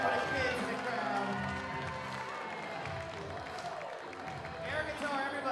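Crowd at a darts event applauding and cheering, a broad steady wash of clapping under an MC's voice, swelling again near the end.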